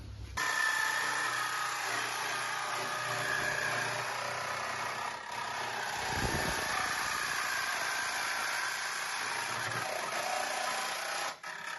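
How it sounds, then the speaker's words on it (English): A jigsaw fitted with a brand new metal blade cuts through metal during a van build, giving a steady buzzing rasp close by that runs almost the whole time with no talk. "Wherever I can, I'm going to use the jigsaw because it just gives me a lot more control."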